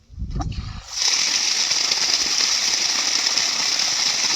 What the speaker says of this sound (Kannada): ನೋಡಿ ಇಷ್ಟು ನೀರು ಹೊಡೆಯುತ್ತೆ